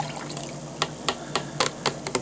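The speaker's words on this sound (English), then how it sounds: "So I'm going to rinse these out. Rinse them in this container here." Bloodworms being rinsed in water in a container: a soft wet background broken by a series of sharp splashy sloshes at roughly regular intervals, close by and with no speech.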